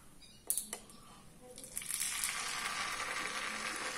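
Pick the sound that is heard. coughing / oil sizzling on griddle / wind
oil sizzling on griddle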